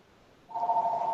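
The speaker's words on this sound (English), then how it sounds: "Sorry, my phone is ringing." A mobile phone rings during an online Hebrew class, a steady electronic tone starting about halfway through and continuing loudly to the end, with no talk over it.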